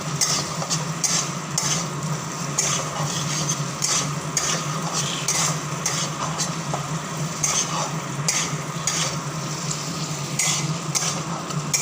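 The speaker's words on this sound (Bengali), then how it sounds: "আলুটা দিয়ে তারপর কষাবো।" Pre-fried potatoes sautéing in a pan with a spiced masala, giving a constant moderate sizzle with frequent scraping and tapping of a stirring spoon throughout, and no voices.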